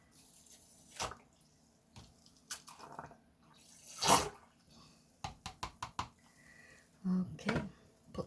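Acid-dyed yarn being washed in water, with scattered splashes, drips and sloshes, plus knocks of a container and lid, separated by quiet gaps; a voice speaks briefly between them.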